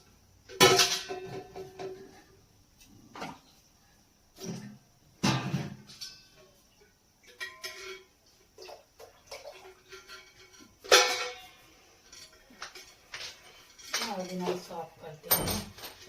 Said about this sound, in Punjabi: ਹੁਣ ਸਾਫ਼ ਕਰਨੇ ਭਾਂਡੇ